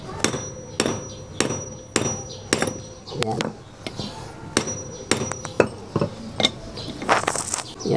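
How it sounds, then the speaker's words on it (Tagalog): Sharp metallic hammer blows strike a pair of stiff, seized pliers to loosen them, landing in an irregular series of about a dozen close, loud knocks, with someone speaking briefly between strikes. "Pukpukin lang po ng pukpukin hanggang sa lumambot siya."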